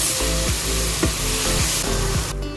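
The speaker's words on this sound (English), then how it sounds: "Let's give this a quick mix." Turmeric being stirred into sizzling biryani masala in a pan, a steady hot frying hiss with regular scraping strokes of the spoon about every half second, close and alone.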